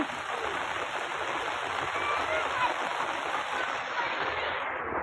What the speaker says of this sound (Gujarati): જોઈ શકો છો વરસાદ હજી ફૂલ ચાલુ હોય